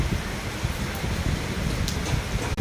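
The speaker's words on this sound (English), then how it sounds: "It is raining like anything." Heavy rain falls outdoors on a windy, cold day, a loud, close, unbroken hiss that runs steadily from start to finish with no talking.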